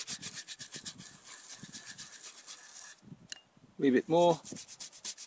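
Teak garden bench being rubbed with diluted Biosativa bio cleaner, a steady soft scrubbing rhythm of short strokes, close by, with a brief spoken comment near the end.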